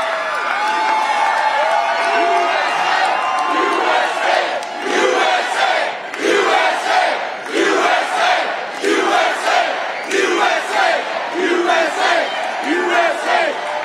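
A large political rally crowd in Green Bay, Wisconsin cheers and shouts in rhythmic chanting bursts, loud and sustained, with the pulses of the chant repeating steadily throughout.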